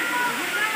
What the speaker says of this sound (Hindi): जो ऊपर से ये झरना गिरते हुए यहाँ आ रहा है